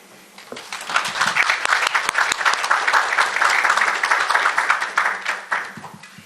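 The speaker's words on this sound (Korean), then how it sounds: "실장님을 앞으로 모실 때 모두 큰 박수로 환영해 주시길 바랍니다." A conference audience breaks into loud applause to welcome a speaker at a supply-chain ESG seminar, swelling quickly, holding steady, then tapering off.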